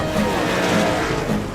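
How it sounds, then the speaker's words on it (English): Race cars tear along at full speed, a loud, dense roar of engines with rising and falling pulses as cars surge past. "The race begins, and every car is pushing at full speed."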